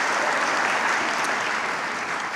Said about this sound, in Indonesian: Mari kita memberikan tepuk tangan yang meriah atas segala usaha kita.